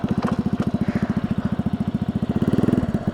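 A Honda Cub motorcycle engine idles up close with a steady, even low putter that swells slightly toward the end, and no voices are heard over it.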